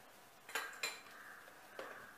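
A spoon mixing lukewarm water in a bowl, giving a few sharp metallic clinks against the side, two close together and one a moment later, with quieter scraping in between.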